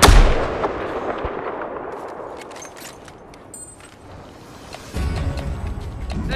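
Rapid sniper rifle fire in the video game Battlefield 4, a heavy booming shot that decays into a long echoing tail, followed by another loud report near the end, with no talking.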